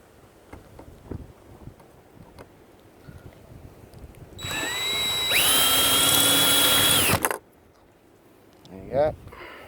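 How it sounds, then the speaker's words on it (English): A power drill bores the tops off rivets on a caravan window bracket in a short, loud, high-pitched burst lasting a few seconds, following quieter handling noises and a brief voice afterward. "I find it easier to just drill the top off that."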